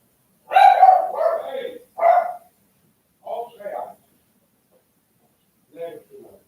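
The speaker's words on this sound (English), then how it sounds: "My dog is going wild." A pet dog barks indoors, several sharp yelping barks in two quick bursts, then a pair, then a last faint pair after pauses; fairly close and loud at first, softer later, with no talk over it.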